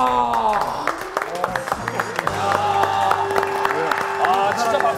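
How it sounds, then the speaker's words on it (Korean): Audience applause on a Korean variety game show, clapping and crowd noise mixed under excited voices and talk, with tonal whoops running through. "아, 진짜 박수가 나오네요"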